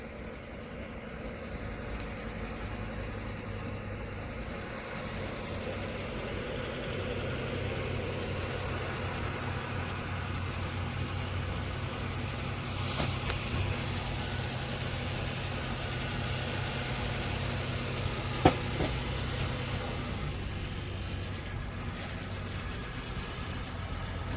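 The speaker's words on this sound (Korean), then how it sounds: "차 소리가 시끄러워서요" A car engine idles nearby with a steady low hum and rumble, continuous and unchanging, with a couple of faint clicks in the background.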